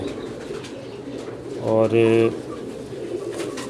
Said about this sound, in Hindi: पीली पलक का कबूतर है